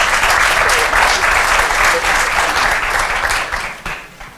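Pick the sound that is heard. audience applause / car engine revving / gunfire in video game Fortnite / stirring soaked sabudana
audience applause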